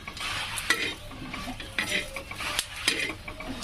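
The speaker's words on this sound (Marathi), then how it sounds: "अशा मस्त भाजून घ्यायच्या राई हे मिरच्या कईपर्यंत भाजवायच्या" Mustard seeds and dried red chillies roasting dry in a pan, stirred with a utensil, giving a steady close sizzle with repeated scraping and clinking strokes throughout.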